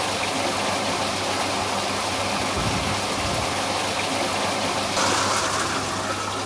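Fast water rushing down a hydraulic flume channel, a steady broadband hiss and splash held for the whole stretch, close and even in level, with a slight surge near the end.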